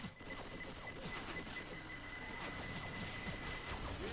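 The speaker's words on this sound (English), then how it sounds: "Throwing a pipe bomb." A pipe bomb goes off in Left 4 Dead 2, a dense crackling burst of blasts and debris rattling continuously through the clip at steady loudness, with no talk over it.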